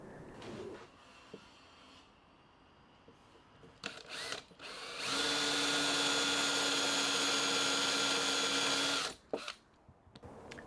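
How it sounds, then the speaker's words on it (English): A power drill fitted with a Forstner bit bores 10mm holes, first in short bursts, then in a sustained high-pitched whine for about four seconds before stopping, close and loud. "so I can get this chucked up in the drill and drill a couple of 10mm holes"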